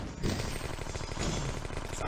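A sniper tower fires repeatedly in the tower-defense game Flash Element TD 2, making a dense, continuous run of rapid synthetic shots that stays loud and steady throughout.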